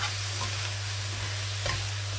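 Pork belly binagoongan with vegetables sizzling steadily in a pan, a loud close fry hiss running throughout with faint stirring scrapes and no talk.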